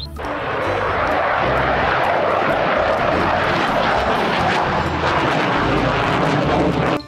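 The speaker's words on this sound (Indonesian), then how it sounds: "Widih, ada pesawat jet tempur." A fighter jet roars in a steady, loud, continuous engine rush that lasts several seconds and fades slightly at the end. No one speaks over it.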